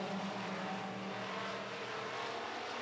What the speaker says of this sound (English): looking the Midwest Modifieds over as they come out of turn number 4, and we are racing